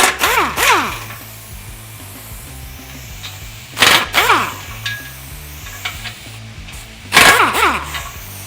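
Impact tool with a 17mm deep socket spinning bumper bolts off a 2020 Toyota Tundra: three loud close bursts of whirring, ratcheting rattle, each about a second long, separated by quieter metallic handling and a steady low hum.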